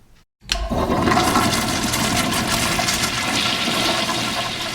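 A toilet flushes loudly and close by, a sudden rushing surge of water that starts after a brief silence and keeps roaring steadily to the end, with no voices.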